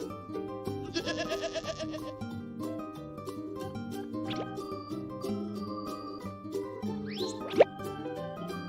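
A cartoonish sheep gives one quavering bleat over a bouncy children's nursery-rhyme tune, with the music playing continuously underneath.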